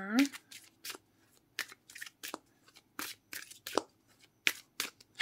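Romance Angels oracle cards being shuffled by hand, a run of quick papery riffles and slaps in short uneven bursts, close and fairly loud, with a voice speaking briefly at the start.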